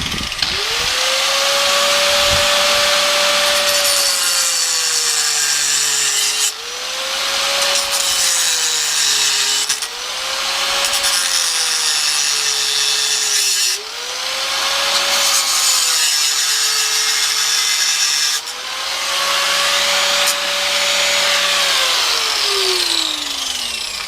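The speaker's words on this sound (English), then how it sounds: "I'll cut the bracket" A metal light bar bracket for a Yamaha Virago XV1000SE motorcycle being cut with a power tool, its loud whine holding steady through several long passes that each dip briefly between cuts, with a harsh grinding rasp throughout.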